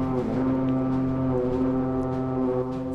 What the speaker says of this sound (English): A wildling hunting horn.